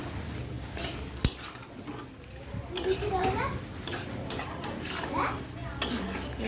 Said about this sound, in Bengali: কুচিগুলো দিয়ে দেবো এবার ভালো করে আরও কষাবো